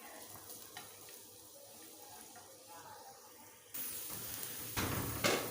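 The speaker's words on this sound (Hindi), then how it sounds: "इसमें डालते हैं लहसुन। तकरीबन 3 से 4 मिनट हमें इसको थोड़ा फ्राई कर लेते हैं।" Garlic goes into hot oil in a pan for pizza sauce: after a few quiet seconds a loud, hissing sizzle bursts in close by and swells again shortly before the end.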